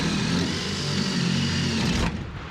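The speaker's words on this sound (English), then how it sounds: "Drill her bolt out here." A power drill bores out a bolt on the body of a 1967 Scout in hard rain, a steady loud whirring grind that runs continuously and then cuts off abruptly near the end.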